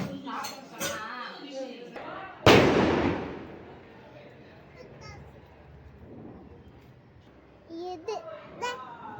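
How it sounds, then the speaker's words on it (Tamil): A firecracker bursts at a house doorway during Diwali: one sharp, loud bang with a long ringing decay. Children's voices and chatter come before and after it. "பட்டாசு மட்டும் எங்கள் வீட்டு வாசலில் ஒன்று வெடிக்கணும்னு அந்த சரம் மட்டும் வச்சு வெடித்தோம்"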